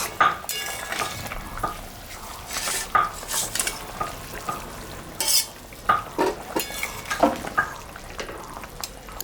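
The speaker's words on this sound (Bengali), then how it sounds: "ঝোলটা ফুটে গেছে, আমি এখন মাছটা দিয়ে দেব" Boal fish pieces go into a boiling curry gravy in a pot, with stirring scrapes, clinks of a utensil against the pot and bubbling sizzle. The sound is close and busy, with no one talking.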